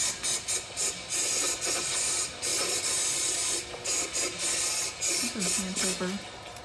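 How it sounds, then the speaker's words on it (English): Repeated short hissing sprays from an aerosol can of brake parts cleaner, close by, in bursts with brief pauses and some scraping and rubbing sounds between them. "Spray some more brake parts cleaner in there."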